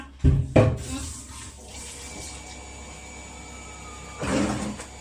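Tap water runs into a basin for washing, making a steady, soft hiss after a couple of sharp knocks, with a louder gush near the end.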